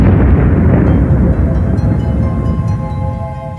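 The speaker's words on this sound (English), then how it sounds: "they end their life in a huge explosion, which we call the supernova" A supernova explosion sound effect: a deep, loud rumbling boom that starts at full force and slowly decays over several seconds, with faint tonal undertones emerging as it fades.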